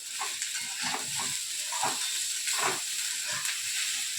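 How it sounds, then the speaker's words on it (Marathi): Onions with a pinch of salt sautéing in a pan until reddish, a soft steady sizzle and hiss with occasional stirring scrapes, close and moderately quiet, no talking. "आता आपला कांदा परतून झाला, लाल झाला जरा."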